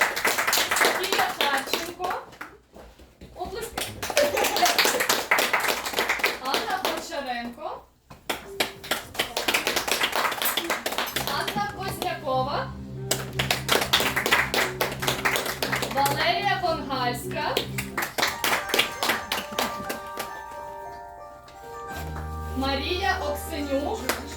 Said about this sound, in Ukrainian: батьки оплески